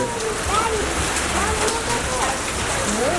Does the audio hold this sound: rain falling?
yes